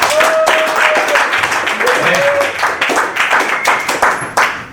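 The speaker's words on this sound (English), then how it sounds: "give her another round of applause" A class at a weekend NLP practitioner training claps for a participant, a short burst of scattered hand claps heard close, with some whistle-like tones and background chatter mixed in before it tapers off.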